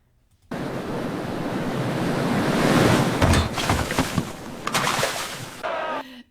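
Ocean surf rushes and swells in a loud, broad wash, building to a crashing peak and then breaking into choppier bursts before cutting off abruptly, heard alone without voices.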